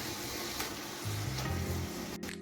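Grated coconut and sugar cooking in a pan for narkel naru, a soft, steady sizzle with faint scraping as the mixture is stirred, ending in a brief louder clatter.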